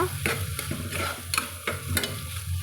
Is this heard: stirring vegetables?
yes